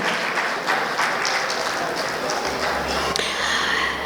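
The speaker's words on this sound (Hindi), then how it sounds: "आप सभी की तालियों की आवाज़ आती रहनी चाहिए" Audience applause fills a hall at a cooperative banking summit award ceremony, a dense, steady clapping from a large crowd that continues without a break throughout.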